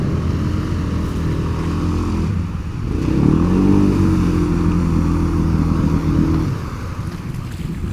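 Off-road bikes and side-by-sides ride through mud and water on a rocky trail, their engines droning steadily and rising to a louder, strained growl midway, with wind buffeting the microphone.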